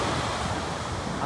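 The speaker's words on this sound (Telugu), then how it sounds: "అసలు అలలు పడుతున్నాయి డైరెక్ట్." Ocean waves break on a beach at Esperance, Western Australia, producing a loud, close, continuous surf roar that fills the moment without pause.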